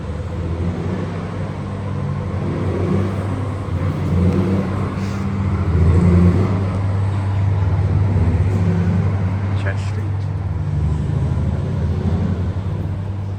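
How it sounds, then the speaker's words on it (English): Street traffic at the intersection of Church and George Streets in Parramatta hums as a continuous low engine rumble, swelling briefly as a vehicle passes near the middle, with a few faint higher clanks. "So the intersection of Church and George Streets."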